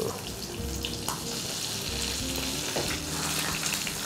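Steady sizzling and crackling of sardines frying in hot oil, continuous and close, with occasional small pops and clinks.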